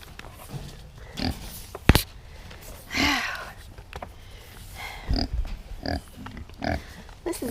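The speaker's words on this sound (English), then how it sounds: "Morning, little piggies." Kune Kune pigs grunt and oink close by in short, irregular bursts, with one louder squeal-like grunt among scattered snuffles and rustling.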